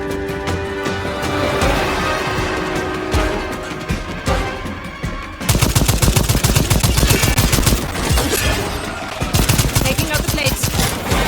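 Gunfire in the video game Second Extinction rattles in rapid bursts, with dense machine-gun fire taking over midway, loud and sustained over background game noise.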